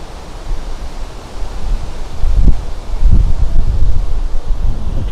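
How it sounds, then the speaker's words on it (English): Strong wind buffets a microphone outdoors on a walk in Hull, steady roaring rumble that swells and gusts throughout, no voices. "I'm struggling with the wind, too strong"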